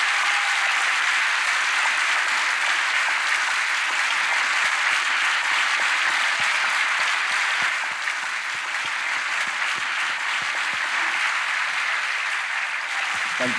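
Audience applause for two guests at a live talk event, a steady dense wash of many hands clapping that holds loud and even throughout, with no voices over it.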